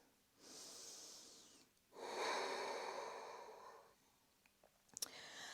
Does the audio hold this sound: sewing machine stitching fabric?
no